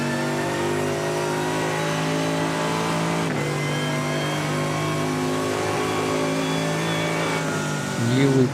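Mercedes AMG GT3 race car in a GT race holds a steady, loud engine note close by, with a brief shift in pitch partway through and a rising surge near the end.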